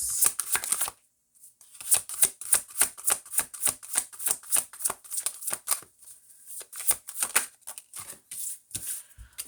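Tarot cards are shuffled close by in a long run of quick, crisp riffling bursts, with a brief pause near the start and a steady rhythm afterward.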